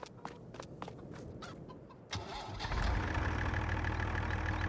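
Farm chickens cluck and crow in short bursts. Partway through, a steady engine rumble rises and carries on underneath them.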